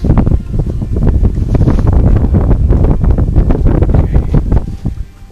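Wind gusts up through a crack in the rock on a mesa, striking the microphone as a loud, continuous buffeting roar that pulses unevenly for several seconds, with no voices.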